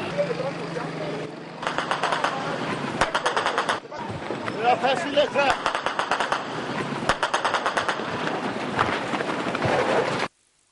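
Presidential guard fire on protesters near the presidential palace, with loud rapid bursts of gunfire in a dense crackling stream that stops abruptly, heard over a voice speaking at the start.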